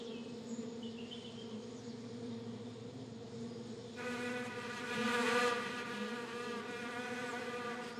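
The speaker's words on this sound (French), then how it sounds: "Chaque minute, des centaines d'ouvrières rentrent à la maison, porteuses de pollen et de nectar" Honeybees fly around the 22 hives of a small woodland apiary, a steady insect buzz that thickens and swells for a few seconds midway before settling back to a constant hum, with no voices.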